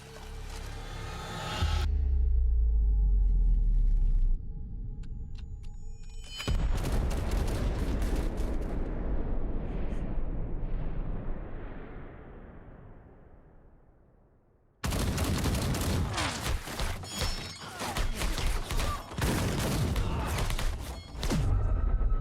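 Gunfire rattles through an anime battle as attackers with guns breach the walls, with bursts of loud shots and booms, a long decaying rumble, then another dense volley near the end.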